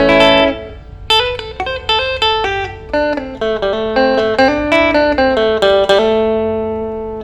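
A clean electric guitar plays a run of bright plucked notes and chords through a Kazuki KA-20 amp, each ringing briefly before the next, with no talking.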